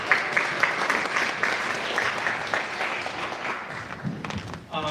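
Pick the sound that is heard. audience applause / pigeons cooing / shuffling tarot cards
audience applause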